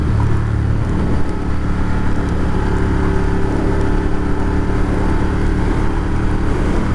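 A motorcycle rides on a wet, damp road, its engine drone blending with continuous tire spray and road hiss at an even, loud level from start to finish.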